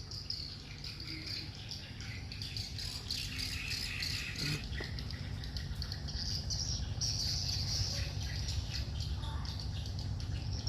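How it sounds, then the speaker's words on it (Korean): Caged pet birds at a house in Vietnam chirp and call repeatedly against a steady din of crickets and insects, moderately near, with no talk. "아 저기 새를 키우네 새소리가 계속 나더니만"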